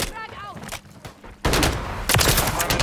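A mounted turret machine gun opens fire in Call of Duty, a loud rapid burst of gunfire cutting in abruptly after a quieter stretch with faint voice and game sounds, then intensifying.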